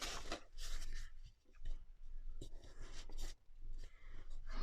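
A book page torn by hand for a Christmas junk journal collage, giving a close, raspy, papery rip in several uneven pulls with short pauses between.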